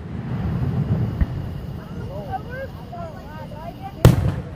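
A fireworks display heard from a distance: a sharp bang early on and a louder crack near the end, with whistling rising streaks between them over wind noise and a low rumble.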